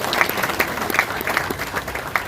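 Loud applause from an audience at an awards function, a thick continuous wash of many hands clapping with distinct sharp claps standing out near the listener.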